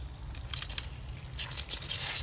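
Water spurts and drips from a leaking garden hose connection, a close, wet, sputtering trickle with small splashes that swell slightly toward the end.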